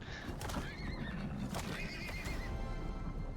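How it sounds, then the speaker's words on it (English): A horse in a video game whinnies in a couple of high, wavering calls over a busy background of thuds and clip-clopping hooves. "There's a horse trying to beat down my wall while I'm trying to..."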